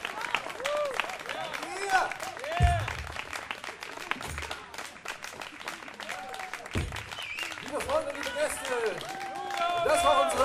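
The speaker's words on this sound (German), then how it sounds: "Fetzenden, furiosen Applaus für Mikala!" Live audience applauding after a trio concert set, a steady wash of clapping and crowd noise that swells toward the end, with a voice speaking over it at times.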